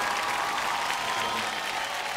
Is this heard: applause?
yes